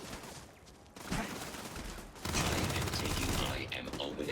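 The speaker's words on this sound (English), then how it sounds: "I am opening fire" Gunfire in the video game Starfield, dense rapid bursts of shots and mechanical clatter that grow louder and more continuous partway through.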